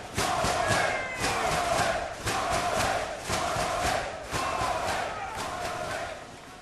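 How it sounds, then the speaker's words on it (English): Wrestling arena crowd at a tag team title match roaring and cheering loudly, a sustained wall of voices that swells and dips in waves across several seconds, with no clear commentary over it. "Listen to the crowd."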